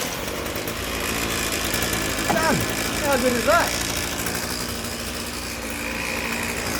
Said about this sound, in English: So I'm now going to press on that, and it's going to start our engine.